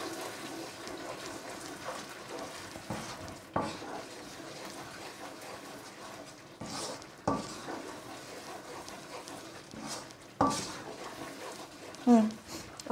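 Spices being stirred into Nigerian jollof rice in a pot: a spoon scrapes and clinks against the pot in uneven bursts, with soft cooking sizzle underneath and louder knocks near the end.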